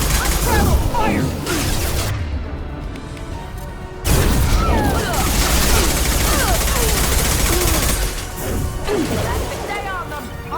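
Gunfire from a firefight in Mass Effect 2, dense and continuous for the whole stretch, with sharp cracks and impacts layered together and shouted voices breaking through the battle din.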